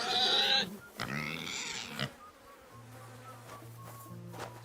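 Pigs grunting and snorting in the medieval role-playing game Kingdom Come: Deliverance II, a few close, rough grunts in the first two seconds, then quieter buzzing and a low steady hum without talk.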